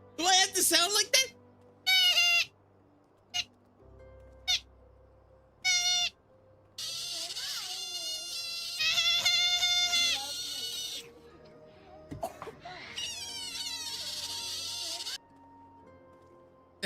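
An otter character in a video game gives a series of short, high, cat-like mewing and bleating calls in separate bursts, some stretched and wavering, with stretches of quiet between them and occasional voices.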